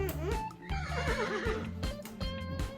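A person imitates a horse's neigh with a loud, wavering whinny that runs close to the microphone for about three seconds, with no other talk alongside it, during a family guessing game.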